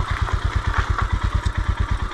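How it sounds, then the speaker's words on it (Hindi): A Royal Enfield Himalayan motorcycle carrying a pillion skids while climbing an off-road uphill trail, its engine thumping in rapid, even pulses, close and loud, with no talking. "देखो मेरी हिमालयन भी स्किट कर रही है ऊपर"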